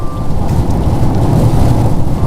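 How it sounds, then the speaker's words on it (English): Heavy rain pours steadily over a highway during a thunderstorm, a dense continuous roar with low rumbling thunder underneath, loud and unbroken throughout. "They're dealing with a lot of heavy rain there on the highway with those storms now."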